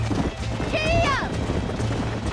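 Horse galloping in the Red Dead Redemption video game during a chase, steady clip-clop hoofbeats under game music and a shouted voice, with a brief whinny-like tone in the middle.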